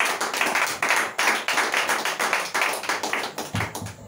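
A church congregation claps together in acclaim of Jesus, loud, dense applause that fills the room continuously, with a low murmur of voices appearing near the end.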